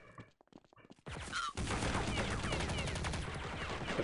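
Gunfire in Counter-Strike: Condition Zero on the Havana map against bots: a few sparse shots, then dense continuous automatic fire, loud and close.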